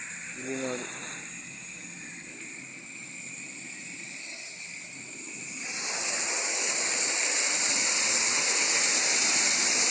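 Gutter water rushes through a filter as a steady broadband hiss and gush that swells noticeably louder partway through, with a brief voice near the start.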